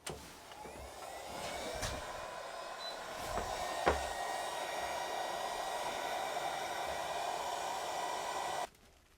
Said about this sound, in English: A little heat gun action sometimes helps.